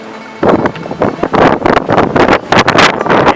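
Gusty wind buffets the microphone on a steep tower stairway at Tower 8, coming in loud irregular bursts of rushing roar after a quiet start.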